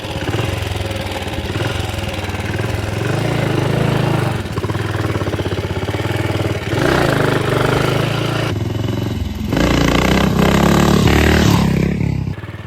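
BSA 441 Victor single-cylinder motorcycle engine revving hard and steadily, loud and close, with throttle surges and a brief dip before climbing again, no talking.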